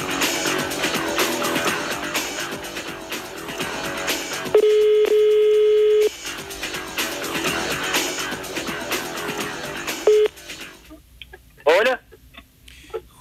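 An unanswered telephone call: a steady tone sounds for over a second, returns briefly later, and sits among busy talk or background sound.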